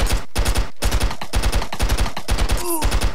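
Rapid automatic gunfire from an AK-47 in the stick-figure shooter game Stick Arena Dimensions, a string of quick, loud bursts firing almost nonstop with short gaps and no voices.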